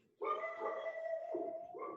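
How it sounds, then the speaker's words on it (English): A dog nearby gives a drawn-out whining, yelping cry that wavers for about two seconds, with no talk over it. "my dogs make an appearance in the background"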